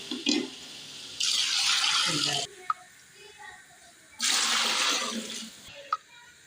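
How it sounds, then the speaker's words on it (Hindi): Water pours into a pot of chana pulao being cooked at home, in two loud splashing bursts of a few seconds each, separated by quieter kitchen clatter and small knocks. "अब इसमें पानी डाल रही हूँ।"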